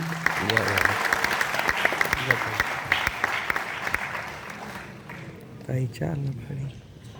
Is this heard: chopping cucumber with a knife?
no